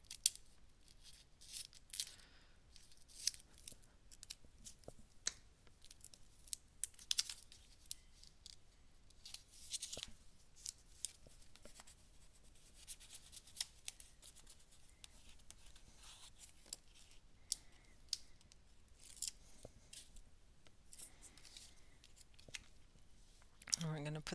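Scissors snip through paper scraps for a handmade collage book, giving close, crisp cuts and rustling handling of paper in a quiet studio, spread irregularly across the stretch.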